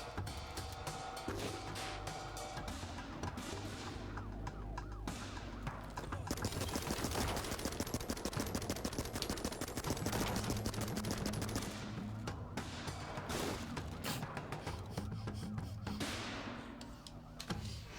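Rapid bursts of gunfire from the video game Ape Out, dense volleys and sharp shot clusters running throughout, loud and busy over layered game music and noise.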